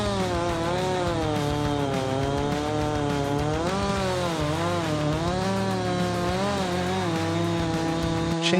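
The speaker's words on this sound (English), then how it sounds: "Chainsaws allow users to cut trees, branches, or large logs much faster than manual saws." A chainsaw runs continuously, loud and close, its buzzing whine rising and falling in pitch as it bites into wood.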